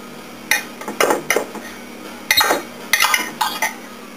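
Meat ribs set down into an oven dish, a handful of short clinks and knocks spaced irregularly, close and fairly clear with little else around.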